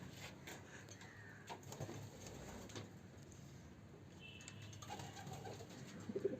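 Pigeons coo softly in the background at a rooftop water and feeding spot, with faint rumbling ambience and a few light knocks throughout.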